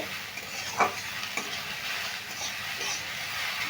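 Potatoes stirred and fried in a pan over high heat give a steady close sizzle, with a couple of sharper scraping strokes near the start and no voices.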